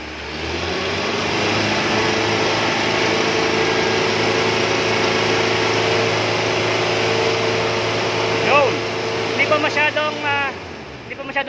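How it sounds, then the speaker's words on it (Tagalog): A small engine runs steadily and loudly, then near the end it is revved in a few quick rising bursts. "Sir, paki-rev mo sir. Rev mo."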